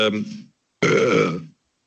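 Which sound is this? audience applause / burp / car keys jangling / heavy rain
burp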